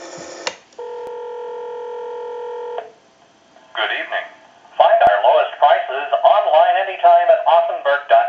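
A Western Electric 500 rotary telephone places a call: a short tone burst, then a steady dial tone for about two seconds, a pause, and a recorded time-and-temperature announcement voice answering clearly through the line.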